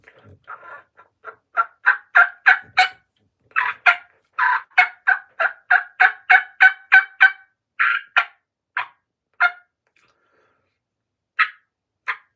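A series of sharp, high-pitched yelps from a handmade V-cut turkey call rings out in quick rhythmic bursts, pausing briefly, then trailing off into a few spaced single yelps.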